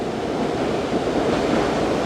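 Water churning in a whirlpool that swirls along concrete walls beside a road, a steady loud rushing roar with no pauses.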